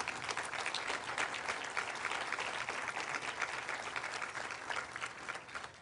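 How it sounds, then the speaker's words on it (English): A conference audience gives a round of applause for award recipients, a sustained wash of many hands clapping, fairly distant and even in level from start to finish. "So let's give a round of applause for all of these recipients."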